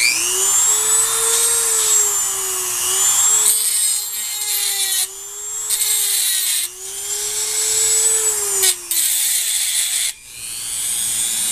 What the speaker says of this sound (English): That's why I have my little Dremel.